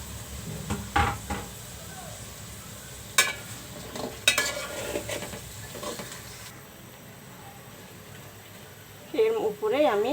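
Potatoes and flat beans fry in a pan with vegetables while being stirred. Soft sizzling runs under intermittent scraping and clattering strokes, with a voice talking over parts of it.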